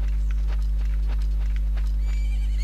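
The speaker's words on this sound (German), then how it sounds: "Da ist mein Pferd." A horse in the video game The Legend of Zelda: Majora's Mask clip-clops in a quick, even rhythm and then gives a short whinny, with a steady low game hum running underneath.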